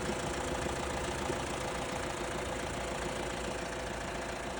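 A 3.0-litre 4KH1 diesel engine in a 2022 Isuzu KV100 refrigerated truck idles steadily at close range, a continuous low, even rumble with no voices over it.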